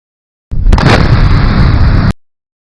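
A loud, dense blast of space-fighter weapons fire and explosions roars for over a second and a half with a sharp crack at its start, then cuts off abruptly into silence.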